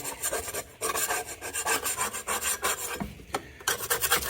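Steady rasping scrubbing as dirt is rubbed off a cheap garden hand tool, close and fairly quiet, in quick repeated strokes with brief pauses and no talk.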